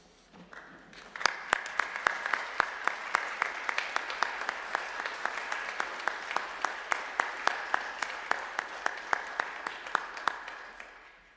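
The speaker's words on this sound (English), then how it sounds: "give your thanks and applause to your family and your friends" Graduates at a law school winter commencement applaud their families and friends, a steady wash of clapping with sharp individual claps rising out of it, loud and sustained from start to finish.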